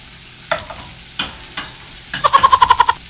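Hotdog frying in a pan beside an omelette, with a few scattered scrapes and taps giving way to a quick, evenly spaced run of utensil stirring clicks over faint sizzling, with no voices.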